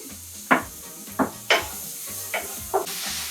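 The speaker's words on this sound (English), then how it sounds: "We're just gonna go ahead and saute this until it's nice and brown." Shallot sautéing in a pan with bacon bits, a low steady sizzle broken by five sharp stirring scrapes and clacks of a utensil against the pan, close and moderately loud, no voices.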